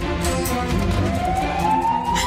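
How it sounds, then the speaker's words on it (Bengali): An ambulance siren wails with a steadily rising tone over a low engine rumble, loud and close, with no talk during it. "এই তো অ্যাম্বুলেন্স।"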